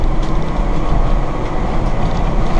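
Interior of a 2018 Jayco Precept 31UL motorhome underway, a steady loud road roar and rumble with rattling and clattering throughout, no talk.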